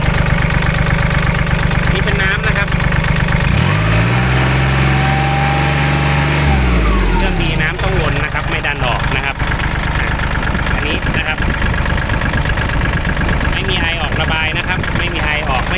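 A Kubota L3608 diesel tractor engine idles loudly and steadily, dipping into a deeper, rougher chug for a few seconds before settling back.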